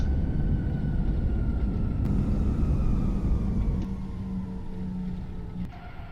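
Airbus A320 engines roaring in reverse thrust during a landing rollout in a flight simulator, a loud steady broadband rumble with a faint descending whine as the jet slows.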